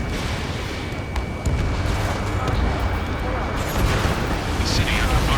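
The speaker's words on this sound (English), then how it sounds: "gunfire and the roar of jets echoing through the streets." Ace Combat 7 mission in a city under martial law: a loud, continuous rumble of gunfire, booms and roaring jets fills the scene, with a voice talking over the noise.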